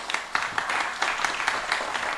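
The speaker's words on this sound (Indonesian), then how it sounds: "Tepuk tangan." Applause from an audience at a Central Java folk games performance, with steady, moderately loud clapping throughout and little else heard.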